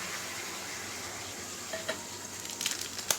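Sour yogurt hits hot oil with fried cinnamon, cardamom, cloves and fennel in a pan, giving a steady close sizzle that turns into crackling spatters and stirring toward the end.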